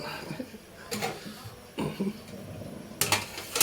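A metal lid clatters onto a cooking pot of bananas, with a few soft clinks and a sharper clang near the end, faint against a quiet kitchen background.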